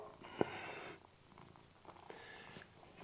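A cat purrs softly and close by, a low, steady rumble with faint breathy snorts and small shifting noises, and nobody talks.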